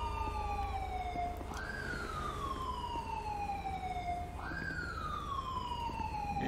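Ambulance siren in GTA 5, a wailing tone sweeping up and then falling slowly, repeating twice, clear and steady over a low background rumble, no talking.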